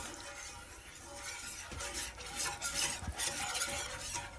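A spoon scrapes and stirs a dark roux in a Dutch oven for gumbo, giving a steady rough scraping texture with a faint sizzle, quiet and close with no voices.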